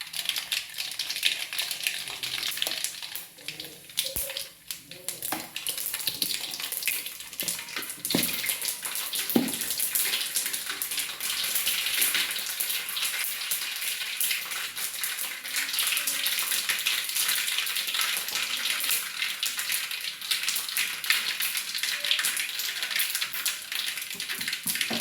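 Mustard seeds spluttering in hot sesame oil in a pan while a mango pickle is made, a dense, steady crackle of rapid pops and spits that runs throughout without pause.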